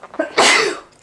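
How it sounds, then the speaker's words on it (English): A single loud, explosive human sneeze with a short breathy intake before it, close up and alone, fading within a second. "that was a huge sneeze"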